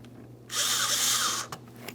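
A power drill whirs in one loud continuous burst, about a second long, snugging the mounting screws of a front door speaker in a 2005-2010 Chrysler 300, followed by a few faint clicks and a low background hum.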